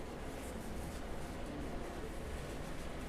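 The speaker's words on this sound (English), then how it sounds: "I apologize for the noise, the AC is going." An air conditioner runs in a room, a faint, steady broadband hiss and hum with no changes, continuous throughout with no voices.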